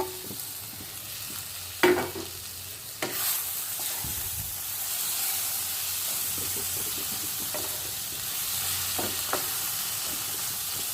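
Tomato, green chili and peas masala for matar ghugni frying in a pan, a steady close sizzle with a few clattering knocks and scrapes of a spoon stirring, no voices.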